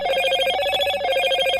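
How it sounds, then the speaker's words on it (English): Motorola smartphone ringtone playing loud and close, a steady tonal ringing pattern with repeating pulses that holds for the full short stretch without pauses. "Nailed it! It's Motorola."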